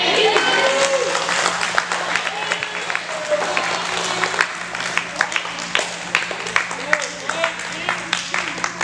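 A banquet audience applauds in a hall, a sustained burst of many hands clapping that thins into scattered claps, with a voice speaking over it.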